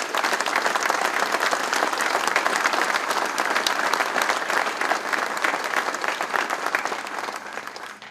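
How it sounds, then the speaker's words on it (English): An audience at a grand opening event bursts into full, sustained applause, a loud dense wash of many hands clapping that carries evenly for about eight seconds and tapers slightly at the end. "And they deserve a round of applause."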